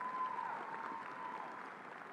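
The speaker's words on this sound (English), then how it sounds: "So students, would you give them a round of applause?" Graduation crowd at Arlington High School applauding, a steady wash of distant clapping from a large audience lasting about two seconds, with a faint sustained tone running over it.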